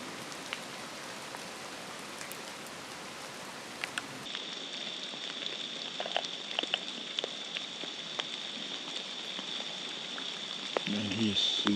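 Steady rain falls in a forest in Manitoba's Duck Mountains during spring, a dense, even patter of drops on surfaces close by that continues throughout, with a faint low rumble near the end.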